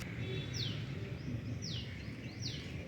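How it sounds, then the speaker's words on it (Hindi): A crow's three short descending chirpy calls repeat at steady intervals over a constant low rumble, moderately distant. "कौवा बहुत प्यारा बोलता है भाई"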